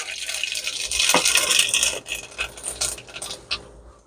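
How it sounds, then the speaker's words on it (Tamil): Mustard seeds hit hot cooking oil for a Tamil kara kulambu, setting off a close, bright crackling sizzle with scattered sharp pops that thin out toward the end. "கொஞ்சம் போல் கடுகு போட்டுங்க,"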